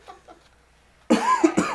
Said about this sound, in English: Was that you coughing or was that?